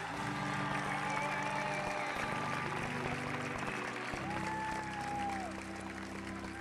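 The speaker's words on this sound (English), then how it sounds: "give these guys a round of applause" A church congregation claps steadily for the full stretch, a dense wash of applause mixed with sustained keyboard or organ tones and faint voices underneath.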